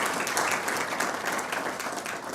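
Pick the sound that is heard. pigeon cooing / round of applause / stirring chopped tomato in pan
round of applause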